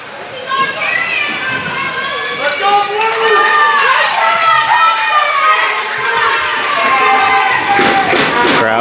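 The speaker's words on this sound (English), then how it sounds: "Crowd's getting fired up as time is ticking away" Hockey arena crowd at a junior game cheering and yelling steadily, a dense wash of many voices rising near the end as time runs down.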